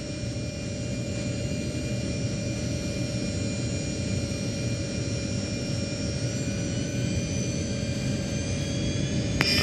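An Antonov An-74 jet roars steadily on a landing approach, a loud continuous engine drone with a high whine running throughout and no talk.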